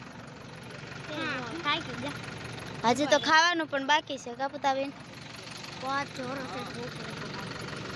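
A JCB excavator engine idles with a steady mechanical drone in the background while someone talks over it.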